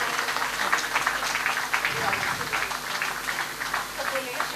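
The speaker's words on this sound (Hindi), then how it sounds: "जोरदार तालियां एक बार सभी अतिथियों की, तालियां बजती रहना चाहिए।" A crowd claps steadily for the guests at a cultural society's women's award ceremony. The dense, continuous applause holds at an even level, with voices mixed in.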